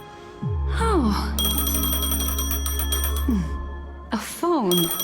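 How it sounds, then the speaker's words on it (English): A phone rings in the tabletop role-playing campaign Chill, a bright, sustained electronic trill with steady bell-like tones lasting several seconds, alongside brief voice-like sweeps and no clear speech. "A phone."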